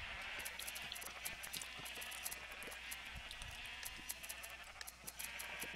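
Sheep bleat repeatedly in a Minecraft Egg Wars match, short high cries scattered over a steady game hum, fairly close and with no talking.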